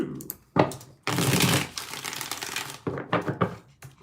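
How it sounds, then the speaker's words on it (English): Tarot cards are shuffled by hand in several bursts of riffling and slapping, close and fairly loud, with short pauses between shuffles. "Let's get 6 shuffles."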